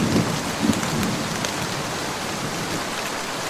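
Cartoon rainstorm with steady rain pattering on surfaces and a low rumble of thunder early on, then the downpour continues evenly and unbroken, with no voices.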